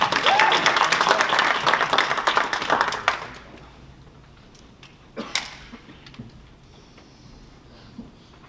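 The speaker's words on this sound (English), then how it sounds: "So give yourself applause because you are here on time." Audience applause in a seminar on making money online: dense clapping for about three seconds, then fading into a quiet room with a few scattered claps and taps.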